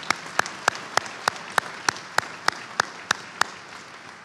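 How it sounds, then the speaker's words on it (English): Graduation ceremony applause, but only one person is clearly heard: single sharp claps at an even pace, about fifteen in a row, over quiet room noise. "let's give her a real big round of applause for her years of service"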